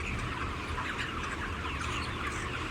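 Chickens cluck and chirp steadily throughout a large chicken barn, a dense flock murmur close by with no voices.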